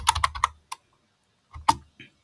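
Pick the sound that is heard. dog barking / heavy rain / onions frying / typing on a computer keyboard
typing on a computer keyboard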